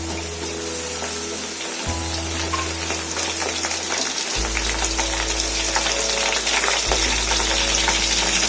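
Fresh coriander leaves frying in hot oil on low heat while making turkey biryani, a steady close crackling sizzle with stirring, continuous over a low hum, no talk.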